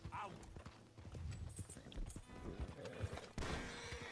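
Horse hooves clip-clopping in Red Dead Redemption 2, a busy run of hoofbeats under game noise and a brief whinny, with a louder burst of activity near the end.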